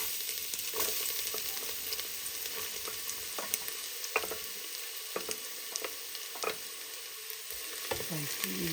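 Food sizzles steadily in a hot pan for aroskaldo, a constant bright frying hiss broken by a few sharp pops and occasional stirring clinks, with no voices.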